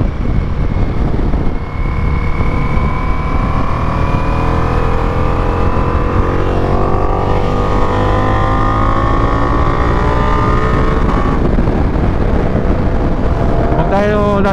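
Ducati Multistrada adventure motorcycle cruising at speed, a loud sustained engine drone blended with heavy wind rush, steady and close for the whole stretch.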